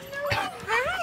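A young service dog prospect puppy gives a couple of high, whining yips over close, light voices; the cries rise and fall in quick, squeaky bursts.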